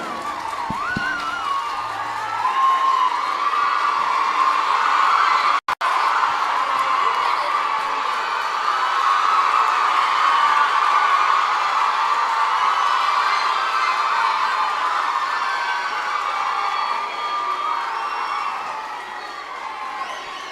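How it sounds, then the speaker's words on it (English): A large crowd at a Maruthu Brothers memorial day function cheers and applauds the chief guest, a Tamil Nadu governor, with sustained roaring, whoops and shouts lasting many seconds before fading. "for delivering the chief guest address with a big round of applause from you"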